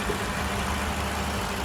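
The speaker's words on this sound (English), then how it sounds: "Here's her 4-cylinder engine" A 2023 Toyota Corolla's 2.0-litre 4-cylinder engine idling steadily, a continuous low rumble and hum close by, with no voices.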